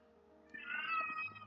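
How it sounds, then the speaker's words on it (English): A house cat meows for attention, one drawn-out, fairly loud meow rising and falling close to the microphone against a quiet background. "Every time I talk, she starts meowing for attention"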